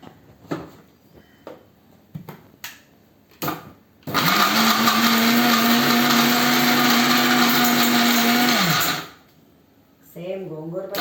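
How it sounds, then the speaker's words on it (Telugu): A mixie blender grinds radish-greens chutney ingredients with salt, running loud and steady for about five seconds before spinning down; someone talks before and after the grinding. "ఇవన్నీ కలిపేసి మనం మిక్సీ చేసేసుకోవాలి."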